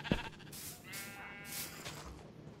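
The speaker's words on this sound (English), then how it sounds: "Cows, sheep, got Jeb over there." Sheep in the Minecraft video game bleat over a busy, noisy background, giving a few short wavering calls at moderate level.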